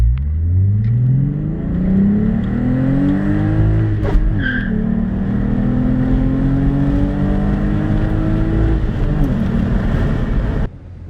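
A Volkswagen Jetta with a VR6 engine revs hard and continuously, its loud note rising and falling through repeated climbs in pitch over about ten seconds before cutting off abruptly near the end.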